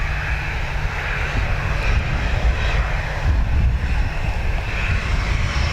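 A Turkish Airlines Airbus A350-900 jet at Dublin Airport gives a steady, loud engine roar that holds throughout, a broad continuous rumble with a hissing upper wash and no voices.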